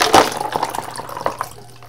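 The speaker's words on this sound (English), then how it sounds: "I'm going to add some cold water to the yellow cup" Cold water poured into a yellow cup in a thermochromism demonstration with beer cans, a short splashing, trickling pour that starts loud and close and then tapers off.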